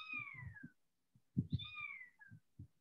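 A young kitten gives two clear, drawn-out meows separated by a short pause, close to the microphone, with soft low thumps and rustling beneath and no speech.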